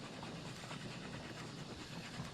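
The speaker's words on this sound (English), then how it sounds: "Actually driving the train right now." A train running on rails in the video game Oddsparks, a steady continuous rolling rumble with faint rhythmic clatter, quiet and unbroken, with no talk.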